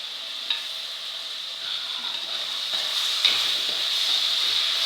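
Green chillies and onions sauté in a pan for a homestyle Kerala chicken curry. A close, continuous hissing sizzle slowly builds, broken by a few soft stirring scrapes and no speech.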